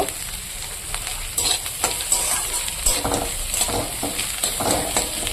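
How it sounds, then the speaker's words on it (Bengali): Eggs are stirred and fried with other ingredients in a pan, with steady close sizzling under repeated scraping strokes of a utensil against the pan and light clinks, no talking. "এবার আমি এগুলোকে ডিমের সঙ্গে মিশিয়ে দেব"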